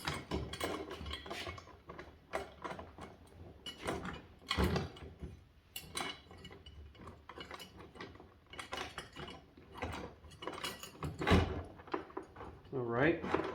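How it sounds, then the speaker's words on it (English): Kayak mounts slide onto gear tracks with repeated plastic clicks, scrapes and ratcheting knocks, close by, interleaved with a person talking. "Onto the gear tracks. Slide everything into place."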